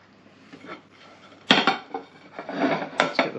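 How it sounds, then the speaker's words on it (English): A metal knife scrapes and clinks against a plate while lasagna made from leftover spaghetti sauce, mushroom soup and pasta is served, giving a few sharp, loud clatters and rubbing scrapes close by. "Might use the knife to guide it onto the plate here."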